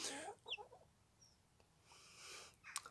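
Cuckoo Marans chicks giving a few faint, brief peeps and chirps in a quiet setting, with soft rustling between them.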